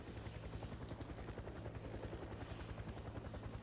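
A helicopter arrives for the pickup in Fear the Wolves, its rotor chopping in a fast, even, pulsing rhythm, loud and close throughout, alone without talk.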